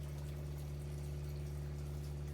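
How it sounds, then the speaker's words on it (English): A fresh water pump on a Jayco 26BH RV runs while filling the hot water tank, giving a faint, steady low hum with a continuous watery undertone and no voices. "We'll turn on the fresh water pump, and you'll see here, water is now filling up the hot water tank"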